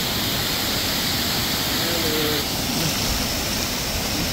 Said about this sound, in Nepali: यो झरना चाहिँ यहाँबाट आएको यो विशाल झरना